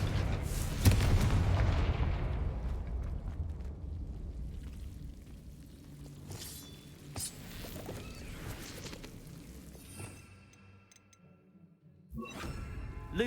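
A Confringo fire spell explodes in the Hogwarts Legacy video game, a loud booming blast that rumbles and fades over several seconds, with smaller crackling impacts afterward and a sharp burst near the end.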